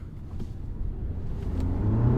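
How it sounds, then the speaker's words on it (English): A Jeep Wrangler 4xe plug-in hybrid, pairing a 2-liter turbo engine with a battery system, makes a hard launch: a low engine rumble building steadily in loudness over two seconds, with no talk. "when we do a hard launch, it's going to use both the 2-liter turbo and the battery system to give us the maximum acceleration"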